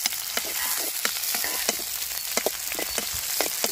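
Onion, green chili and curry leaves fry in a hot pan, giving a steady bright sizzle with scattered crackles and pops and occasional stirring scrapes, close and continuous throughout.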